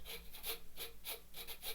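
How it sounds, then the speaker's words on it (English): Carrots rasp against a grater in quick, rhythmic strokes, about seven scratchy pulses in under two seconds, soft and close with no voices. "So I'll do a little bit of grating."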